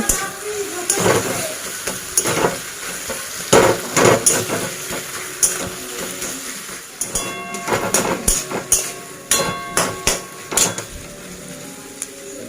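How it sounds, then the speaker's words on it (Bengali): Boiled flat beans (shim) being mashed in a pan, with repeated sharp knocking and scraping strikes of a utensil against the pan, irregular at first and then in quicker clustered bursts, loud and close. "এবার আমি একটুখানি এইগুলো ঘেটে দেবো খুঁটিতে খুঁটিতে ঘেটে দেবো"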